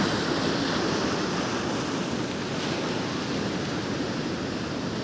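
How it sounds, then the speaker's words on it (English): Large ocean waves crash and wash in a continuous loud roar of surf, mixed with wind buffeting the microphone, with no voices. "Massive waves coming in, inbound,"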